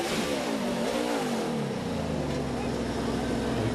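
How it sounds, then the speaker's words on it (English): NASCAR race car on pit road at Texas revs hard, its engine note rising and falling in loud surges amid continuous crowd and track noise. "you can hear Kevin really had the engine revved up there"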